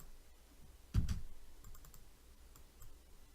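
Double click of a computer mouse, two quick sharp clicks close together against a quiet room, followed by a few faint ticks.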